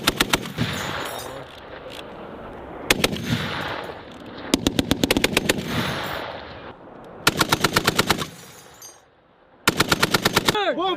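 US Marines fire an M2 Browning and an M240 machine gun outdoors in loud, close bursts of rapid shots, several separate strings broken by short pauses with ringing echoes between them.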